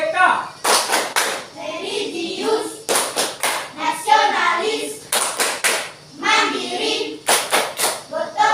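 Schoolchildren in an Indonesian classroom perform a rhythmic class clap routine, bursts of sharp group claps alternating with chanted words, loud and close.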